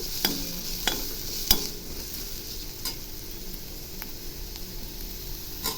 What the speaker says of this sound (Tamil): எல்லாத்தையும் ஒன்றா மிக்ஸ் பண்ணி நல்லா ஃப்ரை பண்ணிடணும்